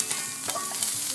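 Noodles and carrots tossed together for vegetarian chow mein, a soft stirring scrape with faint sizzle, brief and close, with no talk.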